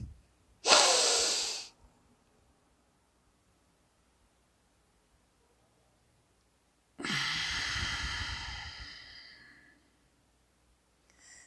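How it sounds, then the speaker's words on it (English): Two bursts of forceful Kapalabhati yoga breathing, each a sharp, close, noisy exhalation rush lasting about a second or two, separated by a long quiet pause. "Four Kapalabhati breaths."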